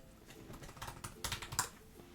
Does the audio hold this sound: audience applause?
no